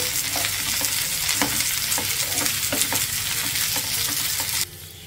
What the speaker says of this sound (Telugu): ఈ బెండకాయ ముక్కల్ని మీడియం ఫ్లేమ్లో ఒక 2 నిమిషాలు ఇలా కలుపుకుంటూ ఫ్రై చేసేసుకోవాలి